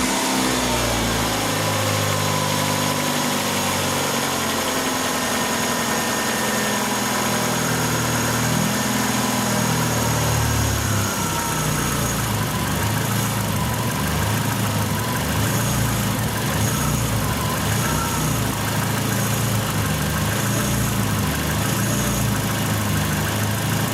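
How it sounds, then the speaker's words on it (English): A car engine turns over and settles into a steady idle during a DPFE sensor diagnostic test. The idle is loud, close and continuous, with a low mechanical rumble. "Actually, you can start the car."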